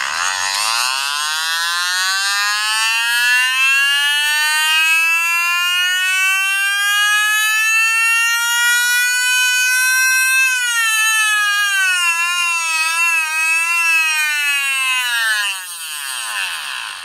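A neodymium Neoball magnet spun by a Hall-sensor coil pulser whines as a loud, steady tone that rises in pitch as it speeds up, then holds and wavers near the end before dropping slightly.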